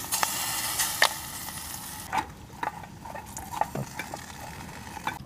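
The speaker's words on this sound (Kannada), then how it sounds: "ಇವಾಗ ನೋಡಿ ಪಾಪ್ಕಾರ್ನ್ ಬರುತ್ತೆ" Popcorn kernels popping in a pan over a camp stove during solo camping in a rainforest: scattered sharp pops at irregular intervals over a steady frying sizzle, close and moderately loud, no talk.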